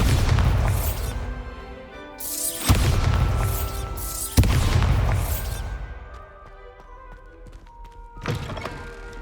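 Bombarda spell explosions in Hogwarts Legacy on PC land as heavy booming thunks, three big blasts in quick succession followed by a smaller one, each ringing out with a bright, sparkling decay.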